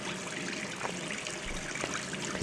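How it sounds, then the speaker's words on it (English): Running water from a faucet in the video game Gone Home, a steady, soft hiss and trickle that continues evenly throughout with no voices. "Let's turn off the faucet."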